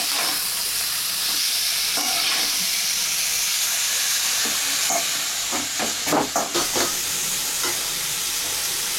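Banana flower for cutlets sautés in a hot pan with a loud, steady sizzle and hiss, and a cluster of scraping stirs near the end, with no voices.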